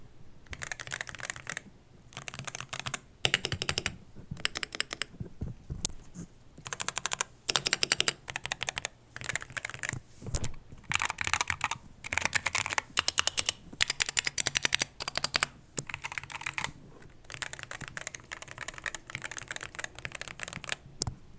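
Keys clack steadily on a Wooting 80HE keyboard fitted with foam, giving a soft, creamy typing sound in bursts and short pauses, close and fairly quiet, with no voices.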